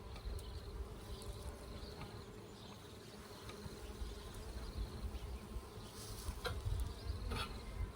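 Honey bees buzzing around an open hive during a summer inspection, a continuous close drone of many insects with a few louder individual fly-bys rising out of the hum.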